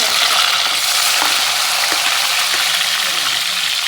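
Garlic and green chilli paste fries loudly in a hot pan. The dense, continuous sizzle sits close and fills the short stretch, with only faint stirring beneath it.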